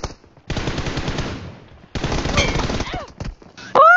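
Gunfire in the PUBG Mobile video game during a 1v1 team deathmatch fight: two dense bursts of rapid automatic shots, loud and close, separated by a short gap, with brief game effect sounds at the end.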